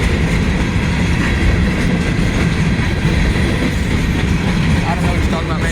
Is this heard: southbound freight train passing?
yes